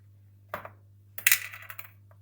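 A fish food container is being opened, giving a few short plastic clicks and rattling taps, close and fairly quiet, against a low steady hum.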